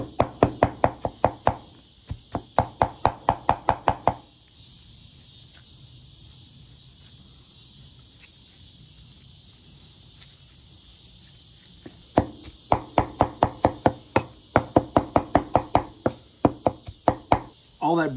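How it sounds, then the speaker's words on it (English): Smoked brisket chopped with a knife on a board, bursts of rapid, sharp, regular strikes, with a quieter pause in the middle before the chopping resumes close and loud. "we're just going to chop this whole thing up."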